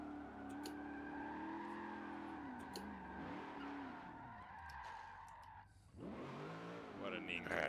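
A race car engine in a racing video game holds a steady high drone, dips and wavers as gears shift, then falls away before revving up sharply again with tyre squeal, loud and continuous throughout.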